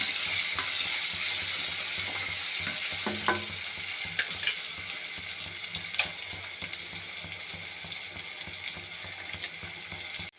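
Onions with curry masala sizzle steadily in hot oil, a continuous bright frying hiss with occasional scraping stirs and small clicks, close and alone without talk.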